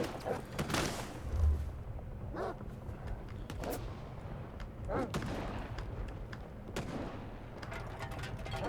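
Several sharp gunshots in S.T.A.L.K.E.R. 2 crack out in bursts, with fainter distant shots between them over a steady background rumble.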